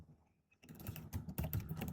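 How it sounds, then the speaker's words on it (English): Fingers type rapidly on a computer keyboard, a close run of clicky keystrokes starting after a brief quiet moment and continuing steadily. "don't mind my typing"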